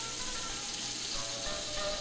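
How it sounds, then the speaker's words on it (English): Pieces of General Tso's chicken stir-frying in a pan, a soft continuous hiss of oil with a watery, rushing texture, steady and moderately quiet throughout. "Demonstrate stir fry."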